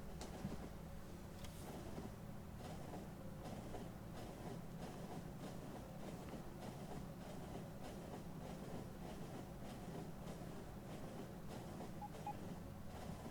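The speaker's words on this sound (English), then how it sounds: "Hey, look, Pax train." A passenger train in Factorio rolls along its track, a faint steady rumble with a rhythmic clicking pulse running continuously at low volume throughout.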